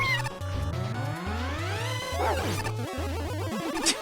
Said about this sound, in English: that meow synced up nicely with the music